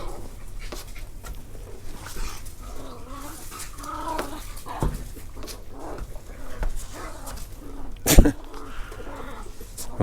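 Dogs fighting outdoors can be heard in the background of a garage while a 1987 Chevy Caprice sunroof is installed, with yelps and snarls mixed with bird calls and one sharp bang.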